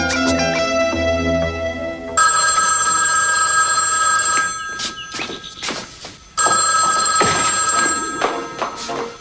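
An indoor telephone rings in repeated bursts, with loud trilling bells separated by pauses, alongside footsteps and brief movement sounds between rings.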